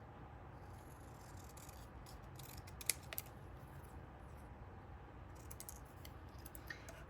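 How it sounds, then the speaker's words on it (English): Quiet snipping of scissors cutting paper, soft repeated cuts with a few sharper clicks, close by over faint background hiss. "I'm going to just take my long blade scissors and I'm going to just trim out my"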